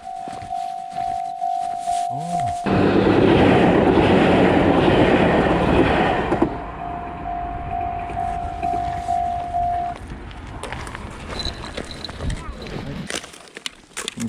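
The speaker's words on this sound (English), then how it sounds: "There's train coming." A train rumbles past close by in Tokyo beside the Arakawa cycling road, loud and roaring with rhythmic clatter, a horn blast at the start and another long horn tone later, fading away.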